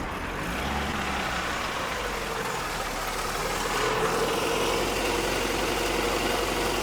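A car engine idles steadily with a low, even rumble, close and continuous, and a slight rise in level partway through, with no voices.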